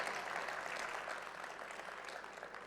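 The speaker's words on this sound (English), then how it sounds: "So how about we give a big round of applause to everyone who came," An audience at a learning day event gives a round of applause, a soft, distant patter of clapping that thins slightly toward the end.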